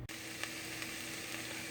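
Peppers, onions and garlic frying in about two tablespoons of oil in a pan: a faint, steady sizzle with a few soft ticks, heard close and without talk.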